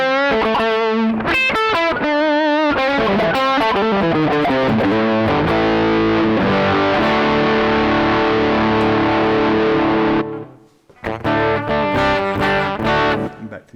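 Electric guitar run through an overdrive pedal into a cheap JOYO Vox and Fender amp emulation pedal with a little reverb, playing loud distorted chords and sustained notes for about ten seconds, then a brief pause before more picked phrases.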